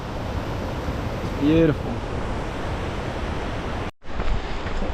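Steady broadband rush of water from a river in Nelson Lakes National Park, continuous and fairly loud from close by, with a brief spoken remark partway through and a sharp momentary dropout near the end.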